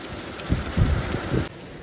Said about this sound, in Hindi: शाम के समय तेज़ हवाओं के साथ ज़बरदस्त बारिश स्टार्ट हो चुकी है